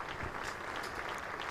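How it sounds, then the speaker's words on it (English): Crowd applause at a Lancashire vs Middlesex one-day cricket match as Keaton Jennings walks off retired hurt after an innings of 42, a steady distant wash of clapping with a commentator's voice faintly underneath. "There's the applause"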